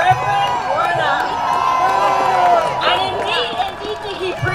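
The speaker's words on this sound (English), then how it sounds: "Y'all, let's give another round of applause to our U.S." A rally crowd at an Atlanta protest cheering, whooping and applauding for Senator Reverend Warnock, a dense, sustained roar of many voices with claps mixed in, fairly loud and steady.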